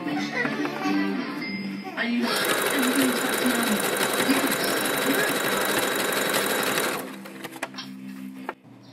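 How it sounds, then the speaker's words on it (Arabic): A sewing machine stitches plastic trim onto fabric for Moroccan salon cushions, running in one loud, steady, rapid whir for several seconds, with speech around it before and after. "نمشيو بالماكينة ونرجعو عاد نبداو نجبدو فلاستيك ونخيطو من فوق منه"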